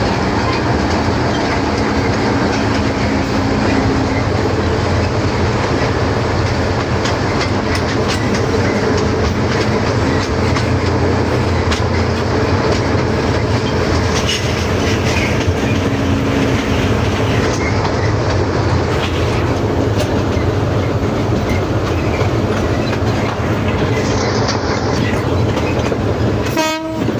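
Loud, continuous train noise at Ambarawa railway station museum, with steady rumbling carriages, clickety-clack of wheels on rails and a horn sounding, close and dominant throughout.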